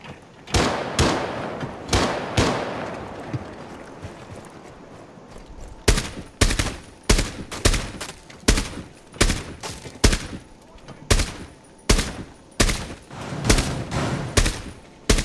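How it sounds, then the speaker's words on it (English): Repeated gunfire in the tactical shooter Rainbow Six Siege during a Chalet team deathmatch, shots punched through a barricade; loud sharp bursts and single cracks recur in an irregular rhythm across the whole stretch, with no talk. "they're shooting through the barricade right there too"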